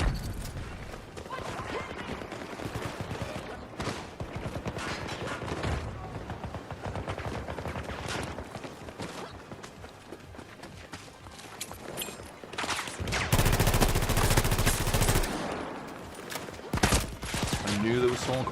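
Rapid automatic gunfire from the VHX in a shooting video game, bursts of shots crackling over in-game noise with a louder stretch of fire near the end, while a player talks.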